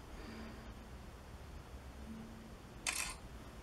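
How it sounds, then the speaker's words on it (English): A Huawei Ascend Mate 2 phone's camera shutter fires once near the end as a short, sharp click over a faint steady hiss, with no talking. "Shutter speeds really quickly here."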